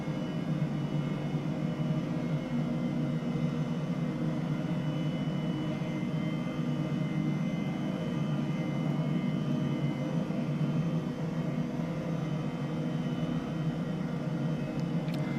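Turbine engine and rotor of an H135 helicopter in Microsoft Flight Simulator, a steady loud droning whine with a broad rushing hum that holds level throughout, with no voice over it.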